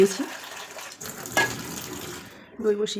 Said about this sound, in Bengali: এখানে জল ঢেলে দিলাম